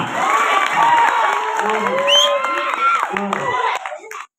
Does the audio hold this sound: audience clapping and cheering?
yes